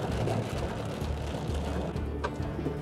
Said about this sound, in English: Man, this isn't snow, this is hail.